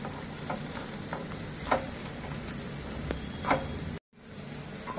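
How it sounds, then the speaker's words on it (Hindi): Green chili stirred into a pan of cardamom and spices for paneer mutter malai: a soft, steady sizzle with occasional scraping stir strokes, quiet and close, ending with a brief dropout. "उसके बाद हम डालेंगे ग्रीन चिली, इसे थोड़ा स्टर कर लेंगे।"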